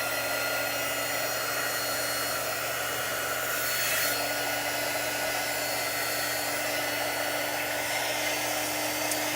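A dryer blows steadily to dry Chalk Couture chalk paste on a carved tree project, a loud, close, unbroken airy roar with a constant motor hum throughout.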